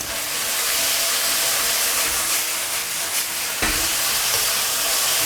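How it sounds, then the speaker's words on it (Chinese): Shredded pork stir-fried over maximum heat in a wok with sweet bean sauce, giving a loud continuous sizzle and hiss with a brief surge of frying noise partway through. "现在是开最大的火，给它翻炒一下。"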